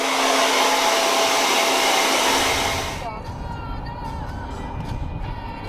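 A hair dryer blows steadily and loudly on a freshly washed spot for about three seconds, then cuts off, leaving a quieter room with faint background noise.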